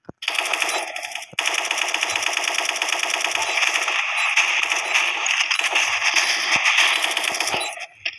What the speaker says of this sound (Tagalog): gumagamit tayo ng ultimate gun